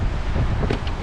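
Steady wind buffeting at sea off Cabo Calera, a continuous broadband rush with low rumble filling the whole second, loud and close with no voices.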